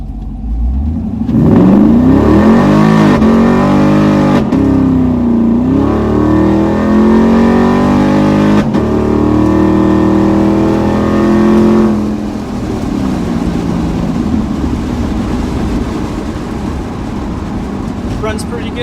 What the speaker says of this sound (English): the exhaust is so loud